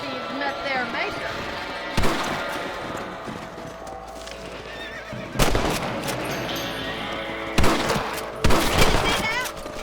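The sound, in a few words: rifle gunshots in video game Red Dead Redemption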